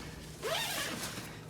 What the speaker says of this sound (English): there are YKK zippers.